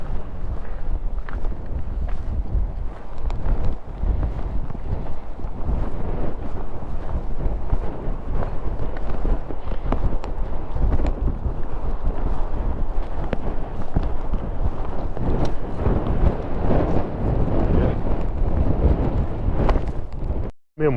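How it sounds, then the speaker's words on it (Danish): Strong wind at the North Cape in Norway roars across the microphone as a loud, continuous, gusting rumble for about twenty seconds, then cuts off abruptly at the end. "Det blæser for meget."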